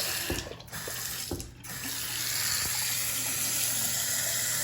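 Water runs from a repaired Delta sink faucet after a couple of clunks as the handle is turned, then settles into a steady, fairly quiet stream into the basin with no talking.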